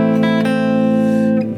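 An electric guitar, boosted through a Kemper Profiler, holds a loud, sustained chord with a few quick strums early on before the sound fades at the end; no voices.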